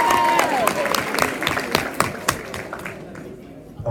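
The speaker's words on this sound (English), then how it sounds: "Give them a round of applause." Applause for an 8th grade team at a middle school assembly, a crowd of hands clapping with distinct sharp claps standing out, loud at first and gradually thinning and fading, with some voices and a brief whistle early on.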